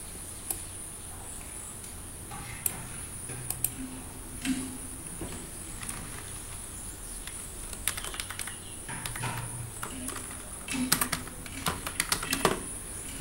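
Keys clatter on a computer keyboard while someone types text onto a presentation slide, with irregular clicks and short bursts through the clip over a faint steady hiss and a high whine, and no talking.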